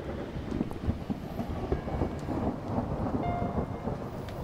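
A big thunderstorm in The Cat Lady video game, with a low continuous rolling rumble of thunder mixed with steady rain, moderately faint and with no talk over it.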